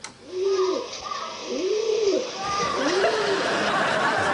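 Pigeons coo nearby in three distinct, rounded calls spaced about a second apart, over a rustling background with faint chatter.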